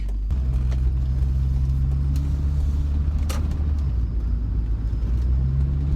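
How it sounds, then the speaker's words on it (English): A 1982 Volvo 245 GLT estate pulls away from a standstill and accelerates, its engine giving a steady low drone that holds and then shifts as it gains speed, heard from inside the car. "I'm just moving away from you know, nothing and accelerating to 30 miles an hour."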